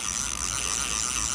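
A fishing reel winding in line during salmon fishing on a river at Cardrona, a quiet continuous mechanical whirring and clicking heard close up with no talk.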